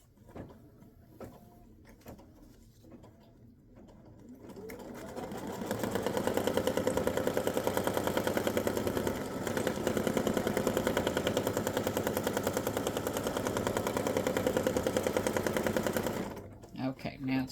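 Embroidery sewing machine running a tack down stitch on a greeting card project, a steady rapid mechanical stitching chatter that starts after a few seconds of handling noise, holds loud and even for about ten seconds, then stops.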